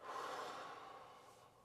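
Steady exhalation pushed out from the diaphragm during a breathing exercise, a soft airy breath heard close and alone, fading gradually toward the end.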